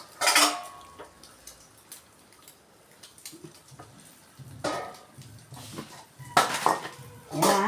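An egg omelet is lifted out of the pan onto a plate, with sharp metallic clinks and scrapes of utensil against cookware in bursts at the start and end and a quieter stretch between.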